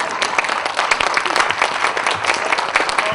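An audience claps at a Hindi comic poetry gathering, a dense, loud burst of many hands held steadily without a break.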